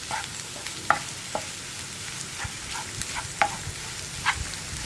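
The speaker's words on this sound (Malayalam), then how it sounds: "ഉപ്പ് ചേർത്ത് ഒന്നും കൂടി ഒന്ന് ഇളക്കി മിക്സ് ചെയ്യുക" Potato curry being stirred with a spoon in a pan after salt goes in, giving scattered light scraping clicks over a faint steady simmer, close by and fairly quiet.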